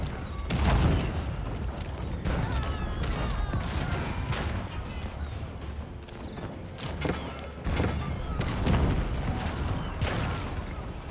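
A battle barrage in the Age of Empires strategy game, with cannons and trebuchets firing alongside janissaries, gives repeated booming impacts and crashes layered into a dense, continuous clatter of combat with no clear speech.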